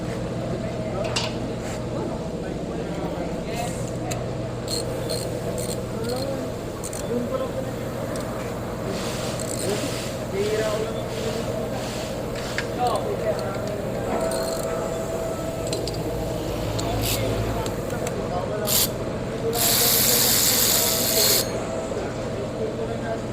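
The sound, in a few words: Hyundai Elantra engine timing chain noise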